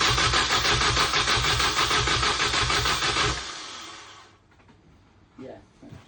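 A rebuilt engine in a Mini Cooper S R52 runs loudly for about three seconds on its first start, then cuts out, leaving quiet clatter and brief voices talking afterward.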